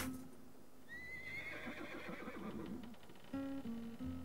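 A horse whinnies in a drawn-out, wavering neigh, close and clear, with a few hoof clops; a short musical phrase follows at the end.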